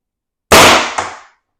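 A single loud, sharp pop from a .68 caliber paintball marker fitted with a tuning chamber, close by, with a quick secondary crack and a short decaying tail against silence.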